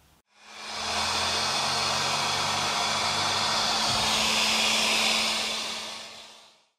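A heat gun blows hot air onto a Yamaha Virago 535 engine part, a steady loud broadband rush that starts abruptly, holds for several seconds with a low hum beneath, then cuts off.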